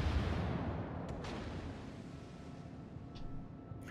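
Booming warship gunfire in the World of Warships naval game, a heavy low rumble decaying over a few seconds with a couple of fainter sharp reports layered on top.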